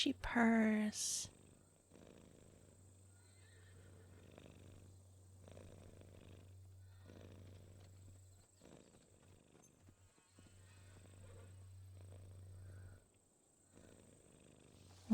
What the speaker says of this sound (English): She purrs.